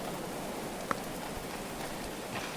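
Rain falling in the medieval colony-building game Going Medieval, an even soft patter of drops on surfaces with a few slightly louder individual drops, steady throughout.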